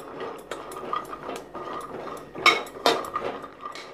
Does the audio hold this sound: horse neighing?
no